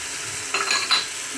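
Whole spices such as cloves, cinnamon sticks and red chilli go into a cooking pan, giving two brief sizzling rustles over a quiet background hiss.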